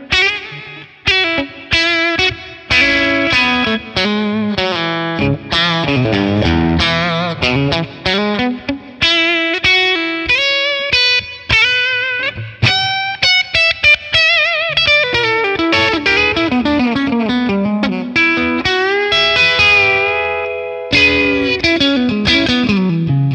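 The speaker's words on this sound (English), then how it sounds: "I really love those Morgan amps. Let's add some reverb." An electric guitar played through a Morgan amp capture with reverb added rings out in distorted, sustained chords and melodic runs, loud and continuous for over twenty seconds, with no voices.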